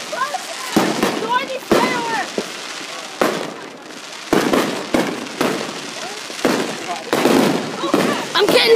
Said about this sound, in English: See, there's a bunch of people, like, setting up the fireworks and everything.